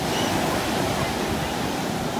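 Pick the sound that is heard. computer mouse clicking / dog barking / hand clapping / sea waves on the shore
sea waves on the shore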